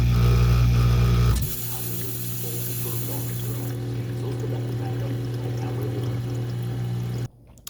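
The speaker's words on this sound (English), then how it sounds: "So this is the water inlet valve, and you can see it is dripping down onto the ground even when it's not running." Water from a leaking inlet valve on a GE Profile dishwasher splashes loudly for about a second, then gives way to a steady low hum with faint trickling underneath.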